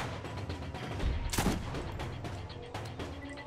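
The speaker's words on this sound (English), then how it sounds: "First things first, shoot some rat." Gunfire in Borderlands aimed at a rat, a dense burst of rapid shots with a louder crack in the middle, close and continuous amid game background noise, with no talking.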